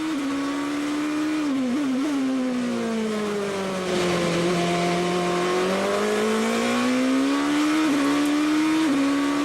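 2006 GP2 Series race cars with V8 engines circuit the Imola track, a loud sustained engine howl whose pitch sweeps up and down through gear changes, steady and close throughout without any talk.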